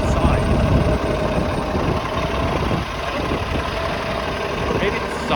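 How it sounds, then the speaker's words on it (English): A Brampton Transit Zoom hybrid electric bus idles nearby with a steady low rumble and engine drone, heard outdoors on a city street. A voice talks over it throughout. "Or maybe this is a hybrid electric bus."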